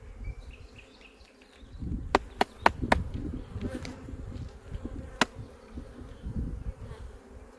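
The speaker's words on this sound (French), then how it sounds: "Il y a pas mal d'abeilles dessus." Honeybees buzz steadily around an opened garden hive during honey super placement, a close droning hum with a few sharp clicks and taps mixed in.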